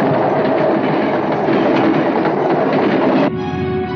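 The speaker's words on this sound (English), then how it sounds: "Train." A train rolls past with a loud, steady clickety-clack of wheels on rail joints that cuts off abruptly near the end, leaving a low hum. No voices are heard.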